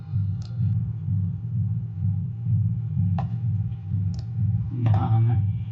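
A computer mouse clicks a few times, sharp and brief at irregular intervals, over a steady low hum from a computer setup, close and fairly quiet.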